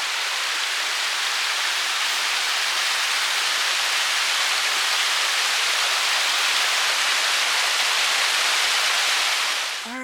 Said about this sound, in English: Look, our first little waterfall.